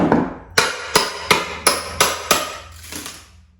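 Sharp metallic knocks as a crowbar pries tacks out of lounge furniture, about seven evenly spaced strikes, close and loud, each fading quickly.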